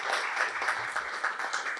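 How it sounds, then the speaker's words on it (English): Participants of a swimming course applaud together, a steady moderate patter of many hands clapping without pause through the short stretch. "So give all my participants a clap"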